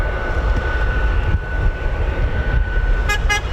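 An F-35B stealth fighter jet on a short takeoff with its thrust-vectoring rear nozzle angled down: a loud, steady, broad jet roar fills the clip, with a couple of short high-pitched toots near the end.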